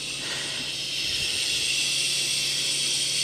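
Steam hisses steadily from a La Pavoni Europiccola lever espresso machine, a bright, continuous close-up hiss that holds at an even level for a few seconds.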